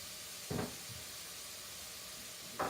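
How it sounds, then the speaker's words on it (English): Onion sizzling in melted butter in a pan, a steady soft hiss with two short louder bursts of sizzle or stirring about two seconds apart, close and quiet, with no speech. "My butter's melted down. I'm going to go ahead and put my onion in."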